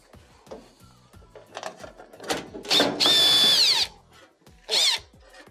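A power drill whirs in short bursts, spinning out a ground screw on a GE dryer during repair, with mechanical clicks and ratcheting between the loud close whines.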